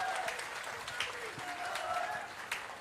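Applause from a crowd at an outdoor political rally in Gandhi Nagar market, a steady wash of clapping through the whole span with a few sharper claps, fairly faint and distant.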